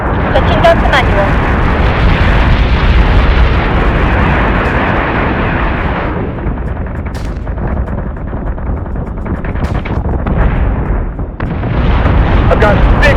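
Guns firing and explosions in the space combat video game Battlestar Galactica Deadlock, a dense, loud continuous roar of blasts and bursts throughout, with crackling impacts layered under voices.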